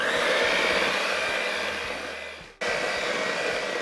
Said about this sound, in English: go ahead and mix the batter for about 1 more minute